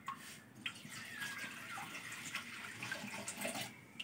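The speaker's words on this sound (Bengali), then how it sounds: "এবার কিন্তু আমি এর মধ্যে জল দিয়ে দেব।" Water poured from above into a kadai (wok) set on a lit stove, a faint continuous splashing rush with small irregular spatters throughout, no voices.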